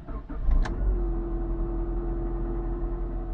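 A PT Cruiser Turbo engine cranks briefly and catches, settling into a steady, fairly loud idle that carries on to the end.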